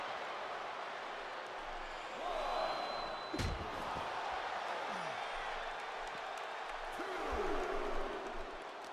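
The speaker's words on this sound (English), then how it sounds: "And, oh, slamming him down." A professional wrestler is slammed onto the ring mat during an MNW Warzone match, giving a sharp thud near 3.4 seconds over steady crowd noise, with a few smaller impacts later.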